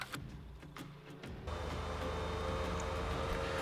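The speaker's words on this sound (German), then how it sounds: "der Motor hört sich so an wie so ein Elektromotor" A video game vehicle's motor in Farming Simulator 19 starts up and settles into a steady, smooth electric-sounding hum after a few clicks and bumps.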